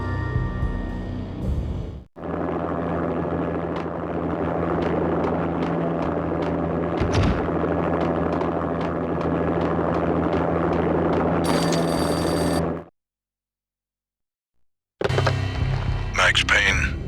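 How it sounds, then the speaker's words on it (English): Armed helicopter landing on manor grounds in the video game Max Payne: a steady, loud rotor and engine drone that holds for about eleven seconds, drops out into silence, then comes back. "An armed helicopter just landed on the manor grounds."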